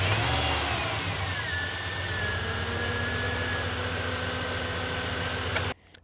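A 2002 Dodge Dakota Quadcab's V8 Magnum engine runs loud and close, its pitch sliding down from a high rev into a steady rumbling idle before cutting off abruptly near the end.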